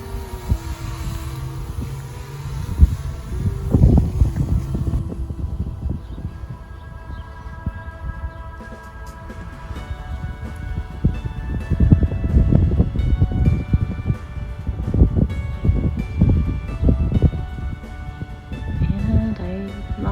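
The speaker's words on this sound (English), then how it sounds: "a little breezy out right now, so you can see it kind of moving a little bit" Outdoor wind gusting against the microphone while an EXO X7 Ranger Plus drone flies in breezy conditions in Post Falls, Idaho, a loud continuous low rumble with rustling, and someone talking over it.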